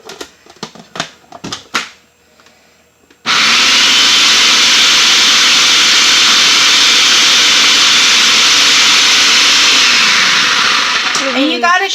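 A food processor blends homemade pico de gallo with lemon and fresh garden produce: after a few handling knocks, a loud, steady whirring roar runs without a break before winding down at the end.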